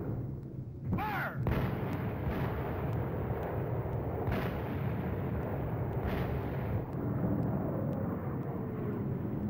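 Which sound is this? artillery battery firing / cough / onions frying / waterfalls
artillery battery firing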